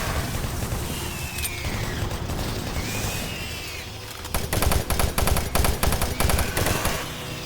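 Doom 3 machine gun fire from a custom episode, an even rapid burst near the end after quieter in-game ambience and a few mechanical sounds.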